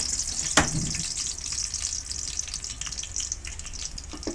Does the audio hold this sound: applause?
no